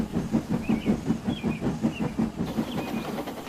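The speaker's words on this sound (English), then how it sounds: "The guard then blew his whistle, and James puffed away." A steam locomotive chuffs in a steady rhythm with a soft hiss, heard at moderate distance and fairly quiet, with no voices.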